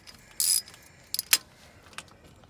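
A ratchet wrench working on a starter motor bolt of a V6 2.7 Kia Optima, heard as a few short metallic clicks and rattles amid faint mechanical clatter, close by with no talking.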